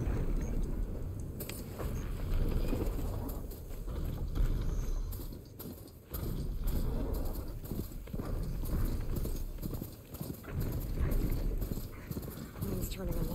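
Hooves clip-clop steadily as a horse is ridden through a dusty open landscape in Horizon Forbidden West, with a dense rumbling game ambience underneath and a voice speaking now and then.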